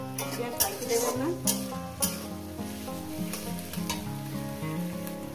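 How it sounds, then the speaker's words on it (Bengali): Green chillies fry with onion and garlic in a pan over a medium gas flame, giving a soft, continuous sizzle with occasional stirring clatter beneath a melodic musical backing. "কাঁচা লঙ্কাটাকে দিয়ে দিলাম, দিয়ে এটাকে আমি 2 মিনিট ভাজবো।"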